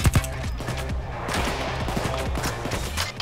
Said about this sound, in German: Aber man ballert hier auch sehr viel rum